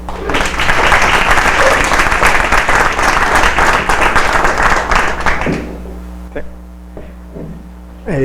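Audience applause at an architecture lecture, a dense burst of clapping for about five and a half seconds, then fading into a few scattered claps over a low hum in the hall.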